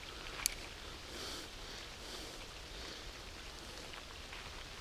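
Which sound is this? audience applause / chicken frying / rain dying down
rain dying down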